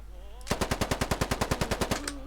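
Full-auto rifle burst in the video game Squad: about fifteen rapid, evenly spaced loud shots over roughly a second and a half, close and punchy, with a faint voice before and after.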